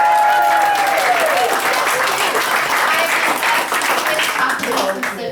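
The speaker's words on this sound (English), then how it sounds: "Can I get a round of applause" A crowd at a This Is Your Life celebration for Cliff Thompson breaks into sustained, full applause with cheering voices mixed in, loud and steady throughout.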